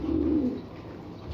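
A racing pigeon coos once on arriving home soaking wet after a 162 km training race in Pozzorubio, Pangasinan, a short low throaty call close by over quiet background.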